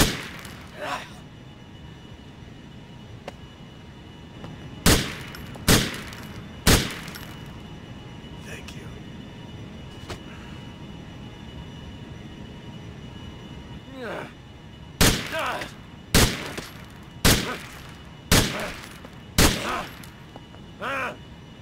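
Gunfire rings out during an execution cutscene in Grand Theft Auto: three sharp shots, then after a pause a rapid run of six loud, evenly spaced shots over a low rumbling background.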